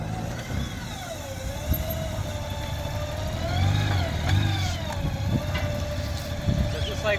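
A Honda Goldwing F6B motorcycle engine drones close by, revving up and down in waves at full throttle with a mid-pitched roar, while a person talks underneath.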